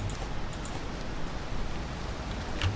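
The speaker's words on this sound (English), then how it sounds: "And then it starts raining." Steady rain falls in the Valheim game world, a soft, even hiss of broadband noise with faint patter, continuous and alone without voices.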